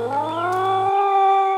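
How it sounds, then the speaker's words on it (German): A frightening, drawn-out yowl like a tomcat in heat rises in a horror video game, a loud harmonic wail that swells and holds steady, with a low droning hum beneath its first half. "hören wir auch noch ständig ein beängstigendes Geräusch, das mich an einen läufigen Kater erinnert"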